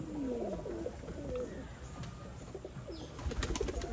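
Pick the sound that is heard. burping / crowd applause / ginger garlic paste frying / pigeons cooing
pigeons cooing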